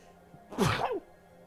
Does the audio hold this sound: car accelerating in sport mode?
no